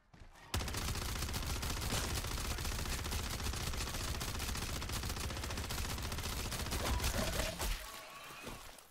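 Sustained automatic gunfire unloading a full magazine into a mimic HVT enemy in Call of Duty MW3 Zombies, a dense, loud rattle of rapid shots lasting several seconds before cutting off.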